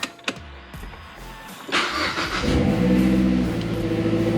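A car engine cranks and catches, then settles into a steady, close idle rumble.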